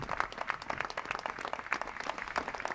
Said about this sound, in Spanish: os dejamos unos momentos con este aplauso, con este homenaje a los sanitarios por parte de la Asociación de Moteros